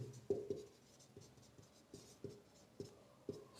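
Chalk or marker taps and scratches on a board while a physics teacher writes a formula, a few soft irregular strokes close by in a quiet room.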